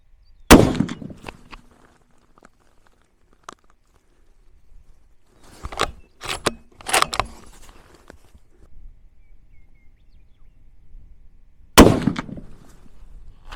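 A rifle fitted with a Vortex Razor HD Gen III scope fires at a target range. Sharp, loud single reports ring out with long gaps between them, alongside quieter handling clicks and rustling.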